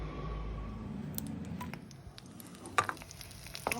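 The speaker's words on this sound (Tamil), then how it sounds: "ஒரு கடாயில் எண்ணெயை ஊற்றி கத்திரிக்காயை ஷாலோ ஃப்ரை பண்ணிங்கோ." Eggplant shallow-fries in oil in a kadai, a faint sizzle with light clicks and taps from a utensil, including one sharper knock near the end.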